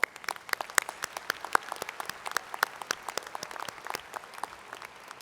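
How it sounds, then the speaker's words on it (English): Applause from a university commencement audience, sparse and uneven claps at first, moderately loud in a large hall, continuing steadily with individual hand claps standing out. "a round of applause for Ms."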